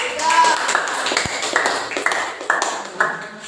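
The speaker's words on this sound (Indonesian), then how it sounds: "Tepuk tangan untuk kelompok." Students in an Islamic religious education class clap in a rhythmic, patterned burst for a group, the evenly spaced claps ringing with bright tapping tones as voices join in.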